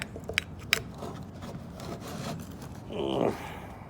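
A small homemade hook tool, bent from a putty knife, scrapes packed sawdust and grit out of a chainsaw: faint, close rasping and rubbing with a few sharp ticks and a brief grating stroke near the end.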